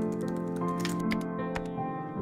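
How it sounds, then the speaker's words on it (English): Busy typewriter keys clatter in quick, irregular bursts behind a closed door, a steady mechanical tapping that runs continuously through the whole stretch at moderate loudness. "Hearing from her shut the door of a commotion of typewriter keys."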